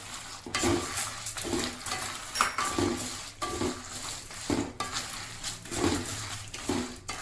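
Urad dal and chana dal are stirred while they dry-roast in a pan over a low flame. A spoon scrapes the metal in steady, rhythmic strokes and the dry lentils rustle, close and clear, with no voices.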